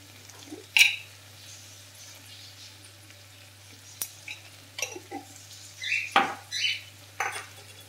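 Spices being stirred into a carrot and chana dal curry in a pan, spoon scrapes and clinks against metal over a soft frying sizzle, several short stirring strokes spread across the stretch, close and without talking.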